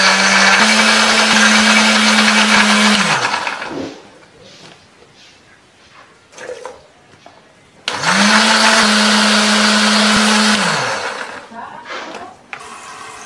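An electric blender grinds roasted candlenuts and coriander with shallots, garlic and a little water in two loud, steady bursts of about three seconds each, with quieter kitchen handling sounds between them.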